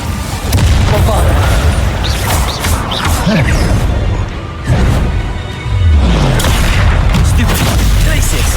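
Bombarda spell explosions in the Hogwarts Legacy combat, repeated loud booms and crashing blasts amid a chaotic fight, with a voice shouting over them.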